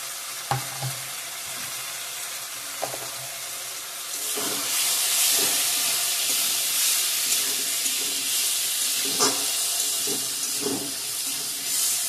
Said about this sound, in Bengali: গুঁড়ো মশলাগুলো অ্যাড করে দিয়ে দেবো।